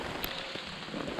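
Steady rain falling, a soft continuous hiss with scattered drops, fairly faint and even throughout, with no one speaking.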